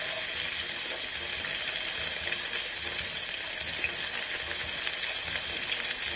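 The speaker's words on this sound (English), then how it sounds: "We just put the onions in the pot straight away into the pan." Onions fry in oil in a pan for a simple curry base, giving a loud, continuous, even hiss and sizzle close up with no talking.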